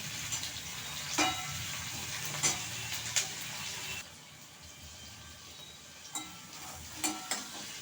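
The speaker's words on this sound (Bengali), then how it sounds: "আমি আলু, বিনস আর ক্যাপসিকামটা হালকা করে একটু ভেজে নেব।" Potatoes, beans and capsicum fry lightly in a pan, with a soft continuous sizzle broken by several sharp scrapes and clinks of a spatula stirring, fairly quiet and close.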